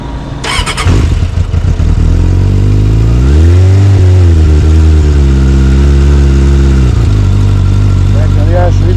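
A Suzuki GSX600F motorcycle on the road, ridden toward Pisa partly on the motorway: a loud, close engine drone that swells into a rising rev midway, then settles back to a steady hum.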